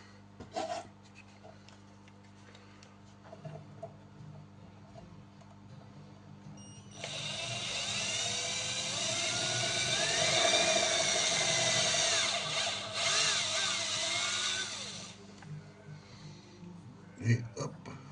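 A small power drill whirs steadily for several seconds, boring into a custom Golf mk3, with a sustained high rising-and-falling whine that starts abruptly and cuts off, amid faint workshop clatter before and after.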